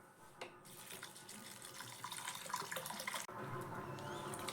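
Water pours from a tap onto flattened rice (chira) being rinsed, a steady close splashing rush that grows slightly louder after a brief break, with no voices.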